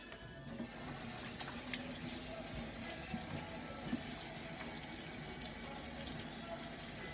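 Tap water runs steadily into a sink during handwashing before cooking, a continuous close gushing hiss with faint splashes and no talking.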